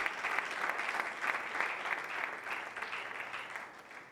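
A church congregation bursts into steady, sustained applause for a bishop, a dense wash of many hands clapping in a large room, with no voices rising above it.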